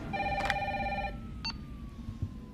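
Telephone ringing in the video game Resident Evil 3 Remake: one bright electronic ring burst, then a brief shorter tone, fairly faint against low background rumble, with no talk.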